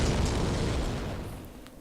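Bombs go off in Sen's Fortress in Dark Souls, a loud, broad explosive roar that fills the moment and then slowly fades away.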